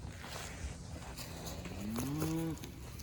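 A single cow lows on a cold farm, a drawn-out moo rising in pitch then breaking off, heard at moderate distance over a low rumbling background.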